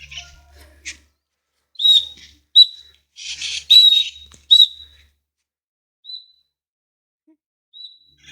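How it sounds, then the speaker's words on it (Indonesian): A tame tengkek kingfisher calling: a series of short, sharp chirping whistles, some clustered in quick bursts and others spaced out with pauses, close and clear against a quiet background. "Burung tengkek yang sangat hebat."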